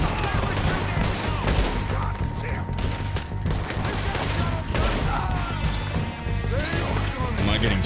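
Rapid, dense gunfire fills a Red Dead Redemption 2 fight, with repeated shots and crashes in an unbroken volley. Voices talk over the continuous, loud shooting.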